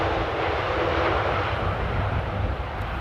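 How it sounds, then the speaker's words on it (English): Boeing 787-8 Dreamliner airliner gives off a steady, moderately loud broadband engine roar with no clear change in level over a few seconds. "this is a 787-8"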